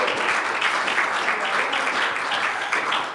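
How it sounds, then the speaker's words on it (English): A concert hall audience at a songwriters' benefit show applauds the master of ceremonies, a full, steady roar of clapping that carries unbroken through the whole stretch. "Let's give him a round of applause here."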